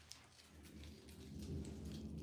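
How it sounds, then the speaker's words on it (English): Thunder rumbles outside during a rainstorm, a low continuous roll that swells toward the end under a steady hiss of rain. "A little bit of thunder outside."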